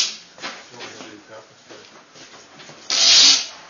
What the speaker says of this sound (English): Just use your deburring tool again.